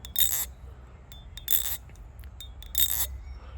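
An Armed Shark Madko balisong, well tuned, swung outdoors in three separate bursts of bright metallic scraping rattle, each lasting about a third of a second, close and fairly loud over a low background rumble.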